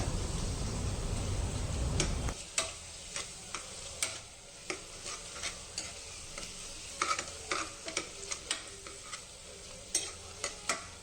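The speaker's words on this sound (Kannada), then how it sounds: "ಅದು ಸ್ವಲ್ಪ ಎಣ್ಣೆಯಲ್ಲಿ ಚೆನ್ನಾಗಿ ಮಿಕ್ಸ್ ಆಗಬೇಕು" Vegetables frying in a little oil for a quick rice bath, stirred with a utensil that scrapes and taps against the pan in repeated sharp clicks over a soft, steady sizzle.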